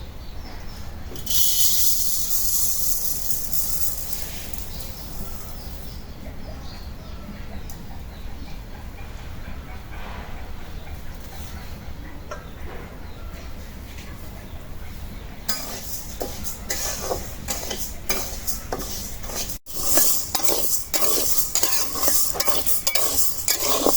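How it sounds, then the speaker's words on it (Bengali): Mashkalai dal being dry-fried in a hot kadai, a continuous close sizzle and rustle of stirring with metal scraping and light clinks of the spatula, growing busier toward the end. "এখন আমি মাসকালার ডালগুলি ভাইজা নেব"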